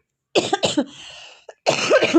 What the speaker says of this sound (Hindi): मेरे हर वीडियो में खांसी आ जाता है